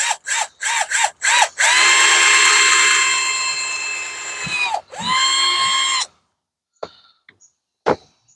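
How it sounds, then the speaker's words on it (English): A hook part of a handmade dipole antenna is being drilled through its top, with a power drill whining loudly and steadily for about five seconds after a few short bursts, then stopping, followed by faint clicks. "let's get this hole drilled in the top of this and get this hook in"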